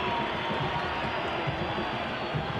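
A Brazilian crowd roars at the 1999 FIFA U-17 World Championship final against Australia, a dense, steady wall of stadium cheering with no break across the short stretch.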